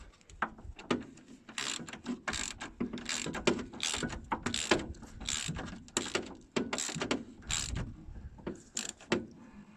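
Ratchet fitted with a wobble drive and long extension tightening a bolt during a front-end rebuild with polyurethane bushes, giving irregular close clicking bursts and metallic clunks at varying intervals, fairly quiet with no talking.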